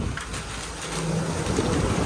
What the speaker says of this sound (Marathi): आता बारीक पाऊस चालू झालाय